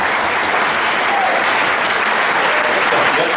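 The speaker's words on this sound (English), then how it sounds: "You're applauding yourself right now." Loud, sustained applause from an audience at a general meeting, thick continuous clapping with no gaps from start to finish.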